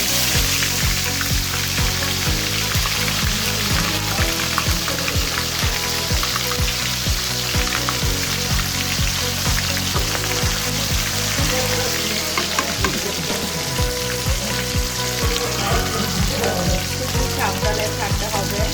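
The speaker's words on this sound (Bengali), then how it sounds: "অল্প আছে আমি মাছটা ফ্রাই করবো।" Marinated fish frying in a small amount of hot oil, a steady crackling sizzle running the whole time over low tonal background music.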